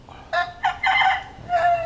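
A Papeye gray rooster, kept as a broodcock, crows nearby in a few sharp, raspy bursts against a quiet background.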